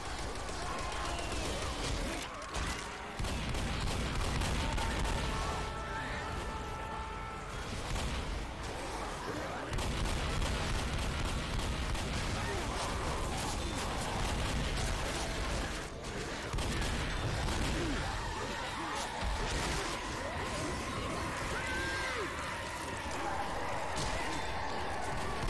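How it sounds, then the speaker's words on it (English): Video game Left 4 Dead on the Lighthouse map: booming explosion and rapid gunfire bursts, loud and continuous, mixed with game noise and players talking over it. "What an explosion"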